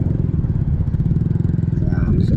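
Idling motorcycle engine with a steady low pulsing throb, close by in a parking area at the Monte Maria shrine in Batangas, running continuously with faint background activity.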